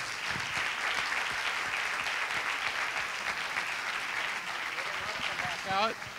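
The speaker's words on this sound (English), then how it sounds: "Let's welcome them out for another round of applause." Audience applause fills a hall after a performance, steady dense clapping throughout with a voice rising briefly near the end.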